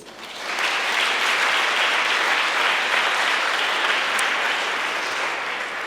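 An audience applauds at the European Youth Charlemagne Prize ceremony in Aachen, with a dense, steady wash of clapping that swells in quickly and holds for several seconds before easing slightly.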